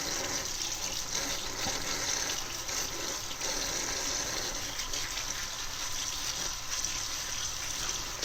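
Water running steadily while metallic paint is scrubbed off with soap, a continuous close splashing gush with faint rubbing texture throughout, no talking.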